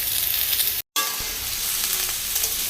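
Potatoes frying in a wok give off a steady, close hiss of sizzling oil that runs nearly the whole time, broken by one brief drop-out.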